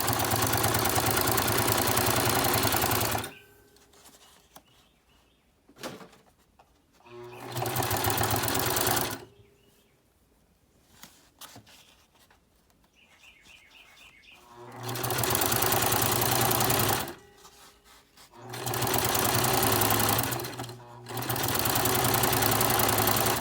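A sewing machine stitching fabric runs in loud, steady bursts of rapid mechanical whirring, stopping and starting several times with quieter gaps between runs, close up and without talk.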